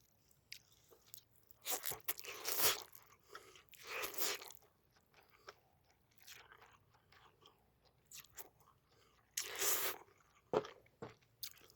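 Spicy pollock bibim naengmyeon noodles being eaten up close, with repeated crunchy bites and chewing in irregular bursts separated by quiet pauses, no talking.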